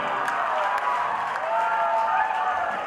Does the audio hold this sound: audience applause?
yes